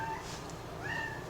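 A house cat meows a few times, soft and somewhat distant, over a steady background hum, with no talking.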